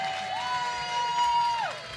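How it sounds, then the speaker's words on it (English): A room full of people at a church session claps and cheers loudly and steadily, with a sustained whistle or whoop riding over the dense crowd noise. "Every person in this room that was blessed today, give her another clap."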